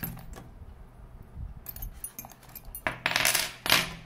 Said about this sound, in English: So you'll see that most of these are Allen keys of various sizes.